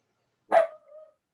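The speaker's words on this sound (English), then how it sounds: "He's just going to keep barking." A dog gives a single sharp bark with a short whining tail, fairly quiet and alone in an otherwise silent room.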